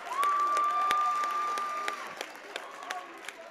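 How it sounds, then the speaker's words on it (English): A basketball crowd at a Vermont Division 3 quarterfinal between Hazen and Randolph screams and cheers for a foul call, a dense roar that includes a sustained whistle and then fades into scattered claps and shouts. "Randolph crowd screaming for a call"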